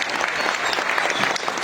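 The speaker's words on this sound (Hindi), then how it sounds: "सभी जोरदार तालियों के साथ इनका स्वागत करें" Audience applause welcoming minister Prahlad Patel at a formal event before a lamp-lighting ceremony, a steady, dense clapping from a large crowd sustained throughout at strong volume.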